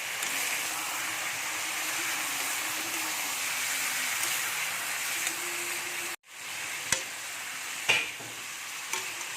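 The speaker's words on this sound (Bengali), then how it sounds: "এখন আমি মশলাগুলোকে ভালো করে কষিয়ে নেব সব" Ground spices such as cumin and coriander are sautéed and stirred in a pan for a potato mutton curry, a steady hissing sizzle with soft scraping, then a brief break and a few clinks of the spoon.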